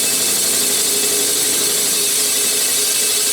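A cylinder boring machine cuts through a cylinder bore of an MGB engine block, giving a steady, loud broadband grinding whir that holds constant throughout with no voices.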